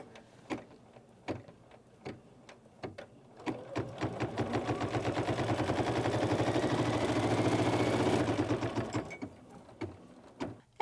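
An embroidery sewing machine stitching a quilt block in the hoop, a few isolated clicks and then a long, loud, rapid needle run that builds and fades before more clicks.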